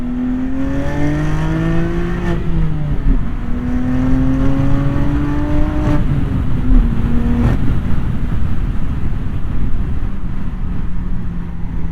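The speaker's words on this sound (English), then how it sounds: "Let me see if I can get you some barrier sound" A BMW M2 Competition with a valved equal-length stainless exhaust revs loudly, its note climbing and falling in repeated swells with sharp crackles between pulls, close to the car and alone.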